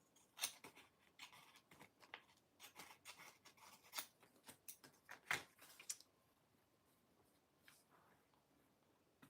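Scissors cutting paper for a monthly journal, a close, soft series of irregular snips and paper rustles over several seconds, then quieting near the end.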